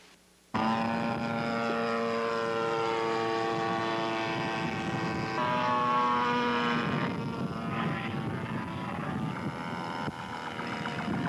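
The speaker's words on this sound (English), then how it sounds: "A quarter-scale Fokker model plane built from Frank Cummins' plans by Bob Hanf." A quarter-scale Fokker RC model plane powered by a Super Tartan single engine with a Zinger 18x6 propeller gives a loud, steady buzzing drone, shifting pitch slightly midway as it flies at an RC fly-in.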